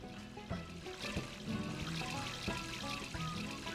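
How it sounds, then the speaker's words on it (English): Water runs and trickles steadily in the Barnyard video game, a faint continuous pouring wash with soft splashy fluctuations and no speech over it. "What's that water sound coming from?"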